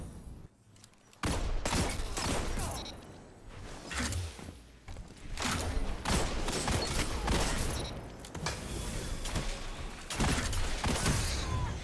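Gunfire from a weapon in Destiny 2 competitive PvP, heard as loud rapid shots in repeated close bursts with brief pauses between volleys.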